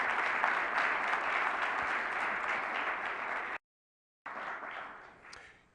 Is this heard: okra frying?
no